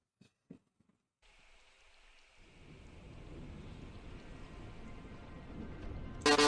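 Storm in Deus Ex: Human Revolution: rain builds from near-silence into a steady hiss with low rumbling thunder underneath, after a few sharp knocks, ending in a sudden loud burst.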